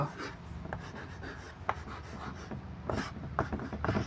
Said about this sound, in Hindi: तो आप यहाँ पर लिख लीजिए बहुलक